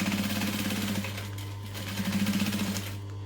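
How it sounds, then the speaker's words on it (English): A sewing machine stitches fabric a quarter inch from the edge, then back stitches, running as a loud, steady, close mechanical whir with a rapid rhythmic needle chatter that briefly slows before resuming. "I'm going to do a couple of stitches and then back stitch"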